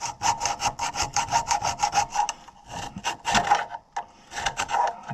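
A metal file rasps back and forth through the grooves of an Oliver 1650 tractor brake part, giving quick repeated scraping strokes in bursts with short pauses, close and loud with no talk.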